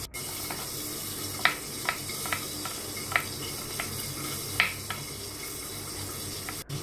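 Garlic, ginger and green chili sizzle in hot oil for a dal tadka, a steady crackling hiss dotted with sharp pops and spits.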